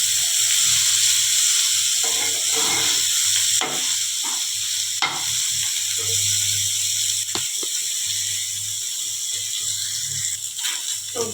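Bitter gourd and greens being stirred as they fry in a pan, a steady close sizzle with a few sharp scrapes and clacks of the spatula; no talking.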